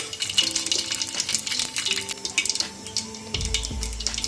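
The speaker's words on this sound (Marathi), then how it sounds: "तेल गरम झाले कडकडीत अर्धा चमचा फवरी घातली अर्धा चमचा जिरे" Fennel and cumin seeds crackle and spit in very hot oil for a misal, a busy close sizzle with small pops and a few clinks of a spoon against the pan, with a heavier low rumble toward the end.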